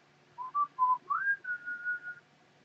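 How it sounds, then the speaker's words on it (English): A loud, clear whistle sounds alone, a short run of rising and falling pitched notes ending in one longer sustained tone. "that whistle's really loud"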